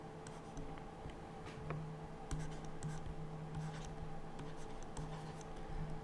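A pen scratches out numerals by hand during a maths lesson on divisibility rules, close and fairly quiet, with short irregular strokes and taps over a low steady background hum and no talking.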